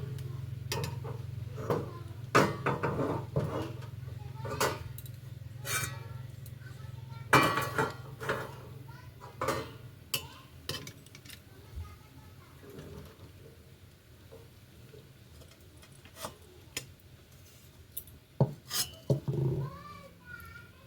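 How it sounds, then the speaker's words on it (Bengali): Cooked pointed gourd curry being scraped from a metal pan into a dish, a run of sharp clinks and spoon scrapes, some close and loud, between quieter pauses. "এবার ঢেলে নেব।"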